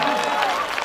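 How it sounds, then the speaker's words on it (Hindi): Audience at a mushaira poetry gathering clapping, a dense wash of applause heard only for a moment, loud and steady, with a voice mixed in. "अगर नहीं हो तो तालियां बजा"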